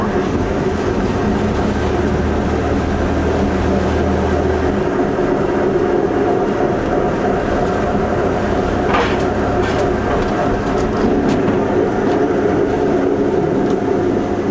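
Continuous rough grinding and rumbling from an Ultravan on its first drive, a steady metallic drone under road noise from inside the moving vehicle, with faint voices in the background.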